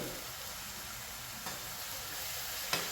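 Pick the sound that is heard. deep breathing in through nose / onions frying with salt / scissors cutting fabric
onions frying with salt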